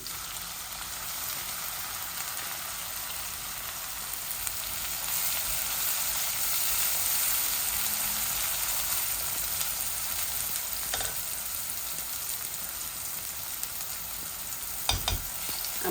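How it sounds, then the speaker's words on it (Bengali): Onions frying in a pan of browned dry spices for an egg curry, a steady bright sizzle like hiss of rain running throughout, with a few clinks of stirring near the end and no voices. "আমি এখন পেঁয়াজ দিমু।"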